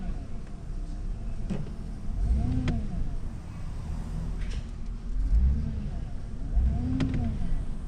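A 2005 GMC Sierra 2500 HD pickup with its engine revving in four-wheel-drive high while the drivetrain binds, a low steady drone rising in three surges, with faint voices underneath.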